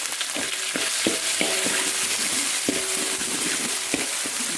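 A spoonful of sambal chili paste sizzles in hot oil, a steady bright frying hiss broken by a few sharp scraping stirs of a spoon or spatula.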